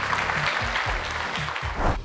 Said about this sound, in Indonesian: saya kembali berikan tepuk tangan dong